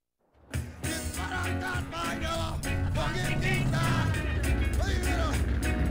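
A car's engine hums and roars steadily in Grand Theft Auto San Andreas, starting up and then driving continuously at a constant loud level, with voices and other game sounds layered over it.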